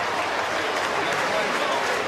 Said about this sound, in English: And applause there for Ava Siu Manafanai